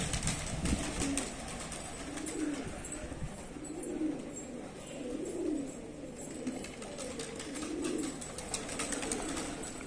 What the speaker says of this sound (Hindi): कबूतर में मस्ती चढ़ी हुई है